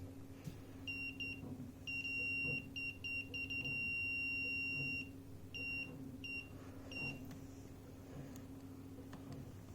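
A 36-volt Wispeed electric scooter switching on, giving a string of short high electronic beeps in quick bursts followed by a few spaced chirps, over a faint background hum.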